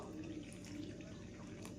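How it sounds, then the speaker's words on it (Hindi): Water poured steadily into a bowl of sifted gram flour to make pakora batter, a continuous close splashing trickle with no talk. "चलिए दोस्तों अब हम पानी डाल के इसको"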